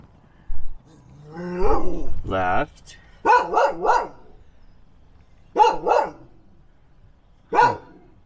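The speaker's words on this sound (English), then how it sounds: "you can't just stand out here and bark at me" A dog barks repeatedly near a Ford E-Series van with a 7.3 turbo diesel, giving short grouped bursts of two or three barks with pauses between, close and loud over a low background hum.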